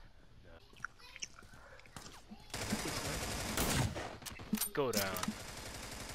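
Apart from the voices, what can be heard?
gunfire in the video game America's Army Proving Grounds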